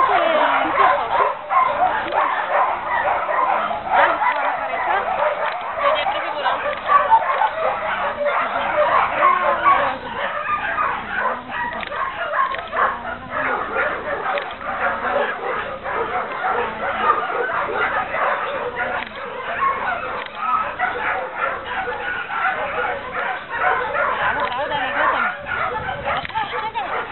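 A dog in a training session barks and yips repeatedly, with whimpering mixed in, under near-continuous talk from a trainer throughout.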